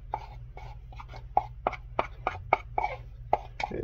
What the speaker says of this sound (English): We add our 50 cc's of stone, and now we're going to mix it together.